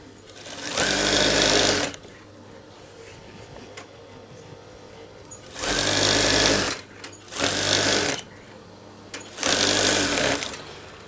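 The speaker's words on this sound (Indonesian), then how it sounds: "terus kita jahit" A sewing machine stitches a shirt collar in four loud bursts of steady whirring, separated by short pauses.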